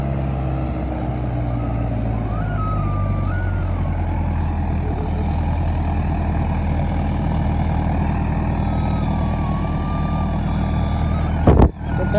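A Powertrac Euro 55 tractor engine running hard in a performance test, a loud, steady diesel drone near at hand with a brief knock near the end.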